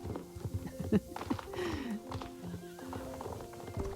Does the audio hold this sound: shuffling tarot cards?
no